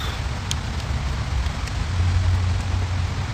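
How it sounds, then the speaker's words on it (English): Steady rain falling outdoors, a dense even hiss with a low rumble underneath and a few faint drips, continuous throughout with no talking. "out here in this rain"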